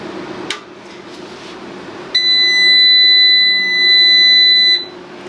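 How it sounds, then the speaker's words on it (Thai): An Anern 3.5 kW 24 V inverter gives a loud, steady electronic warning beep that holds for about two and a half seconds and then stops abruptly, following a brief click and a low hum. "มีเสียงเตือนนะครับ"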